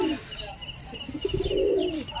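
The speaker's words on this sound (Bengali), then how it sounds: "নর পায়রার ডাক দেখেছো, খুবই সুন্দর ডাক" A male Teddy pigeon coos close by, a low, rolling, throaty call that swells and holds near the end.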